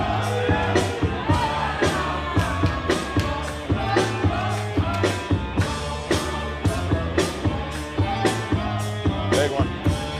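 Wrestling crowd at a BCW show during a wrestler's entrance, shouting and cheering loudly under pounding, rhythmic entrance music with repeated heavy beats.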